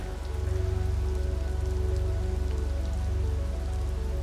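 Steady rain pattering on surfaces in the VRChat game world, a dense continuous hiss over a low rumbling hum, loud and even throughout with no speech.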